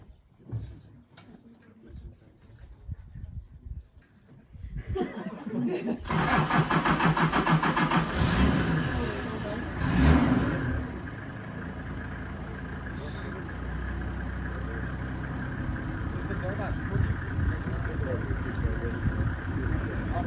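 A Toyota Land Cruiser engine cranks and catches after a few quiet seconds, then runs at a loud, close idle with a brief rev, while people talk nearby.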